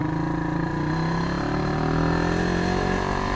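An old-style Yamaha Vixion motorcycle runs on a test ride, its engine droning steadily and loudly with a rising pitch as it pulls away, close up and continuous throughout.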